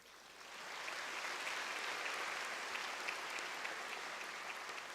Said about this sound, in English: You deserve your own special round of applause from everyone here present.